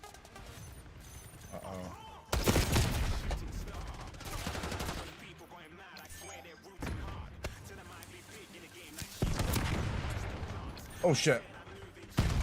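Gunfire in the shooter game Call of Duty, loud bursts of automatic fire and explosive shots close by in several waves, with a player talking and exclaiming between them.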